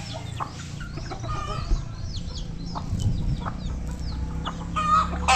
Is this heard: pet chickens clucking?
yes